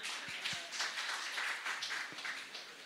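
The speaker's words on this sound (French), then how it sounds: "On peut applaudir Fela." An audience at a French-language talk claps in scattered, fairly faint applause, with soft irregular hand claps blending into a light patter over a few seconds.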